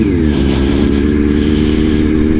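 A 2006 Kawasaki ZX6R 636 sport bike engine running loud and close, a steady buzzy drone with a slight rise in pitch, no voices over it.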